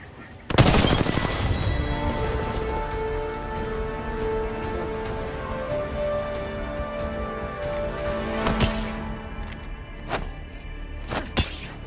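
Gunfire in the Apex Legends battle royale video game: a loud burst of rapid shots opens, followed by sustained firing, scattered sharp cracks and impacts, and ringing game effects.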